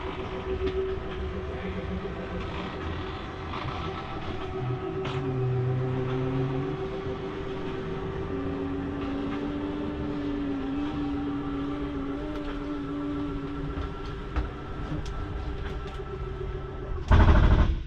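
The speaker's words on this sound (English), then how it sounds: "Once you hear that noise, that is the slide mechanism telling itself, don't go in any further" A Jayco Whitehawk 29BH RV slide-out motor retracting drones steadily for a long stretch with a low whirring tone, ending in a brief louder clunk as it stops.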